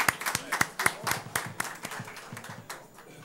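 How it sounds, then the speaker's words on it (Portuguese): Applause rings out in a state legislative chamber for a visiting federal deputy. Sharp individual claps land at a moderate distance, thin out and fade over a few seconds, with a brief voice rising near the end. "Já foi aplaudida, hein, deputada?"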